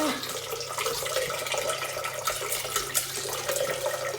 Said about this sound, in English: Is pouring it into the actual liquidizer.